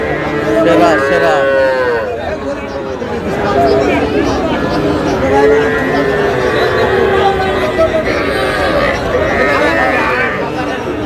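Sahiwal bull calves mooing at a busy livestock market in Dinajpur, with loud overlapping lows and drawn-out calls throughout, close by, under steady crowd chatter and people talking.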